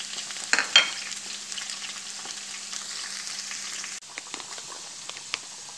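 Garlic and onion frying in a pan for Lebanese kousa, a steady close sizzle with a few louder crackles and scrapes early on, the hiss dropping a little about two-thirds through.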